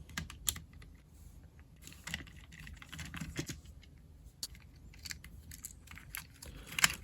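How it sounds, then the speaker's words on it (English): Small screws being removed from an N64 DK64 banana controller, a sequence of faint close clicks and scratchy taps from a screwdriver and plastic shell, quiet and irregular with no talking. "And we're going to remove those 3 screws."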